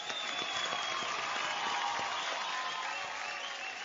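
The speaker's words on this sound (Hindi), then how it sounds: "एक बार जोरदार तालियां गाइस।" Studio audience on Indian Idol breaks into loud, sustained applause after a performance, a dense even wash of many hands clapping at once, steady throughout with no talk on top.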